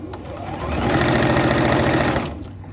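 Sewing machine stitching a fabric hair scrunchie, a close, loud rapid whirring run of about two seconds that ramps up quickly, holds steady, then stops.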